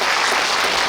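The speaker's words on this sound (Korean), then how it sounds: "네, 박수 부탁드리겠습니다." Applause from an audience at a Korean book talk and political event, a dense, steady wash of clapping filling the room at close range with no gaps.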